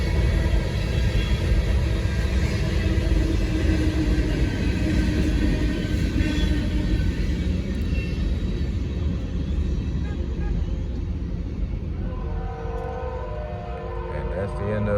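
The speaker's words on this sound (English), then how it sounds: "That's the end of the northbound Ballast Train." A northbound Norfolk Southern ballast train on the Charlotte District rumbles steadily past, with a sustained horn blast over the grinding roll of cars and faint voices beneath.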